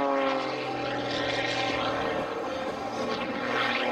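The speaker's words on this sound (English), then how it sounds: "In this aeroplane flies down, it's over 400 kilometers per hour" At an airshow, an aerobatic propeller airplane flies past fast and low with a loud, continuous engine roar that swells and shifts as it goes by.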